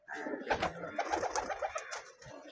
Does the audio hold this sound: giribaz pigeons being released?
yes